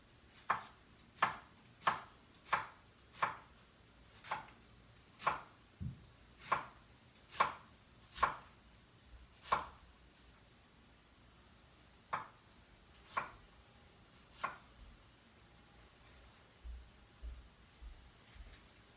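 A knife chopping an onion finely on a board, with crisp, evenly spaced cuts in a steady rhythm, close and clear against a quiet kitchen background, slowing to a few sparse cuts toward the end.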